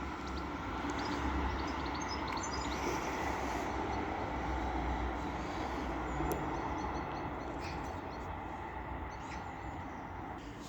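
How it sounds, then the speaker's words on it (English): A train running through Castleton station on the Calder Valley line during rush hour, a steady broadband rumble and rolling wheel noise holding at a constant level throughout, close and continuous with no voices. "The next train to be coming around the bend will be a pairing of 195s"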